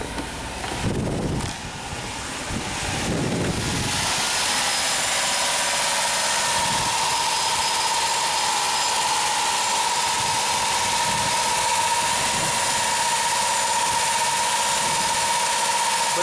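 Dodge Caravan with no communication and a high idle after a new PCM, its engine cranking briefly and catching, then settling into a loud, steady idle with a constant hum that continues unbroken.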